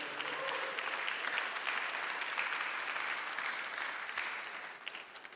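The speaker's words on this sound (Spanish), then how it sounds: "Denle un aplauso fuerte al Señor." A church congregation applauds at a Spanish-language service, sustained dense clapping filling the room at steady loudness before tapering slightly near the end, with no talk over it.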